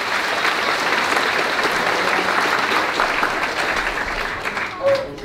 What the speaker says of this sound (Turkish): kocaman bir alkış rica ediyorum